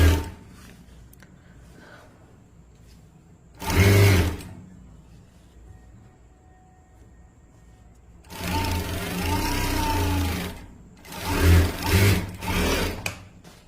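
A sewing machine stitches a sleeve hem in bursts: one short run, then a longer steady whir and two quick bursts, close and loud with quiet pauses between.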